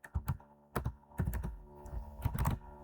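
Clicky keystrokes on a computer keyboard while typing Python code, a close, irregular run of taps in quick clusters with short pauses between them.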